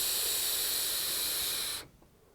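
Strong, loud airy hiss of a draw through a MAUS sub-ohm tank at 70 watts with a 0.2 ohm coil, wide open airflow, holding steady for nearly two seconds, then stopping abruptly.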